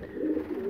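Pigeons in a pigeon loft give a soft, low cooing murmur that runs steadily through the short moment without a break, close by and alone with no voices.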